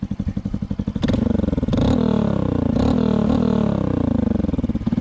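Honda CT motorcycle fitted with a big bore 142 engine, revved hard close by: a loud, rough idle rising into sustained revving with repeated throttle blips and a rattly, buzzing tone, no talk.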